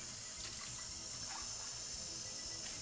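Water runs steadily from a tap into a container for mixing photographic chemicals, a continuous close hiss and splash with no speech.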